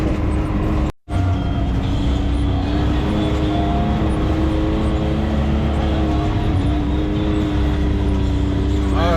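A BRP Maverick X3 off-road vehicle climbing uphill through forest and marshy ground, its engine droning loud and close with shifting pitch and a brief dropout near the start.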